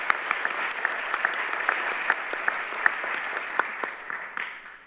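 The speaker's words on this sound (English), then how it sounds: "How about a round of applause for our sponsors today?" An audience at a children's advocacy congress gives a round of applause for the sponsors, steady dense clapping close by that holds for several seconds and then fades out.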